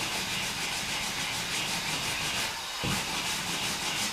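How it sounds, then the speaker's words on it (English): Steady straight strokes of sandpaper rub across body filler on a car fender repair, a continuous close scratchy hiss with one brief break and bump midway before the sanding resumes. "Now I'm just sanding straight, not bringing it back and forth"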